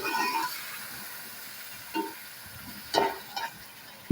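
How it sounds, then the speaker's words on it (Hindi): Masala with tomato and green chili fries in a pan, giving a soft, steady sizzle with a few short scraping stirs and clatters spread across the stretch. "यहाँ पे जी हमारा मसाला जो है ना ये देखिए अच्छे से भून रहा है"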